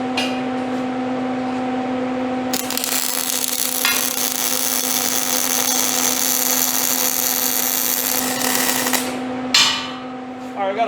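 An arc welder with slag stuck on the end of the rod gives a harsh, steady crackling buzz lasting several seconds over a constant electrical hum, then cuts off abruptly.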